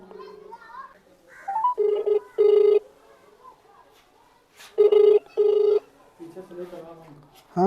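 An unanswered mobile phone call to a village panchayat secretary rings out in two pairs of loud, repeated tones, with someone talking in the gaps between the rings.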